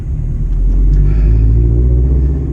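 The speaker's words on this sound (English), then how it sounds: "as far as the sound inside the car with this exhaust, like it's got a pretty healthy sound to it, as you can hear" Scion FR-S engine and aftermarket exhaust heard from inside the cabin, a steady, loud low-pitched drone with a deep rumble that holds evenly throughout, with no voices.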